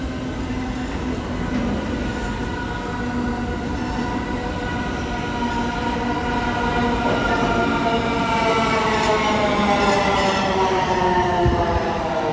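A New York subway train on the E or F line rolls into the station, a loud steady rumble of wheels and cars with faint squealing tones building over about twelve seconds, no voices.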